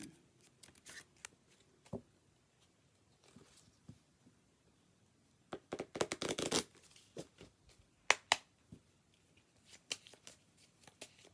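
A small major arcana tarot deck is shuffled by hand in quick riffling bursts, separated by quiet pauses and soft card handling, close and fairly quiet.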